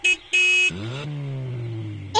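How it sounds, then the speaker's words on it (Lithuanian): A toy car honks with two short, bright beeps, then gives a falling and then steady whirring motor tone as it rolls into a room, with another honk at the end. "Kaip ir kiekvieną rytą, automobiliukas Tobis įriedėjo į kambarį."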